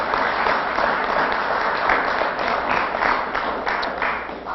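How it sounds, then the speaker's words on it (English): Round of applause from the audience at a city council meeting, honoring a retiring city court judge: dense, sustained clapping from many people at moderate distance, steady throughout with no voices. "round of applause for Judge Roman"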